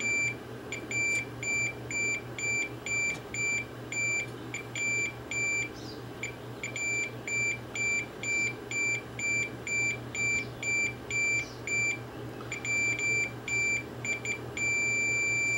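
Multimeter in diode test mode beeping in a rapid, steady series of short tones, briefly interrupted and resuming, over a constant electrical hum while probing the upper drum of a Sony Betamax SL-HF600 video recorder.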